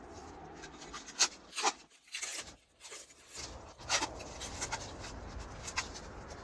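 Protective plastic film peeling off a custom aluminum louvered vent for a Scamp trailer makes quiet, uneven ripping and rubbing bursts with short pauses between pulls.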